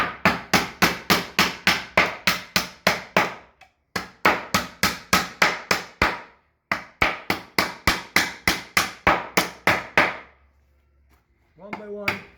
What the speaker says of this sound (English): with the small hammer, we start taking the 9cm nails out.